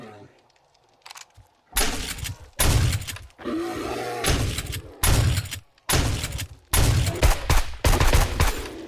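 Gunshots ring out in the video game 7 Days to Die as a player fires at a bear on a snowy prairie, several loud sharp bursts in irregular clusters with brief pauses between them.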